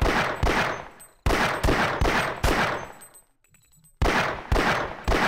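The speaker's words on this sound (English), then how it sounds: "Where am I getting shot at from?" Sniper gunfire in Half-Life: a series of loud, sharp shots with long decaying tails, several in quick succession, then a short near-silent gap before more shots resume.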